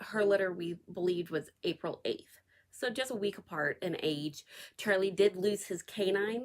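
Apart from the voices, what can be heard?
None of the usual background noises is heard.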